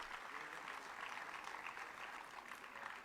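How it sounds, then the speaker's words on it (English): Sustained applause from a ceremony audience after an award to a Telangana engineering college team, a thick, even wash of clapping that holds steady for a few seconds, with faint voices mixed in underneath. "Please, a big round of applause"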